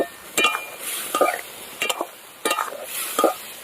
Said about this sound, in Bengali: ধনে গুঁড়ো হলুদ জল দিয়ে দিলাম সব কিছু দিয়ে আলুটাকে ভালো করে কষিয়ে নিতে হবে